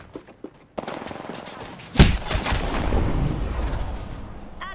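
Rapid automatic gunfire from the Havoc energy rifle in Apex Legends, a few short shots then a loud sustained burst with sharp onset, dense and close, continuing for several seconds.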